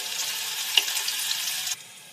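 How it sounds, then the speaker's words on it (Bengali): Garlic fries in hot mustard oil, a bright hissing sizzle that holds steady for under two seconds with one small pop, then drops sharply, close by and with no voices. "তেল গরম হয়ে গেছে, এবার দিয়ে দেবো রসুন।"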